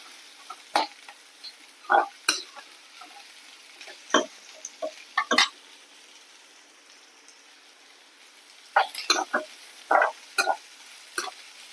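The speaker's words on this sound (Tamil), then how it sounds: "வெங்காயம் நல்லா வதங்கணும், சரிங்களா?" Onions cook in plenty of oil for onion kara kulambu under a faint background sizzle, punctuated by scattered sharp clicks and scrapes of a spoon stirring in the pan, heard in irregular clusters.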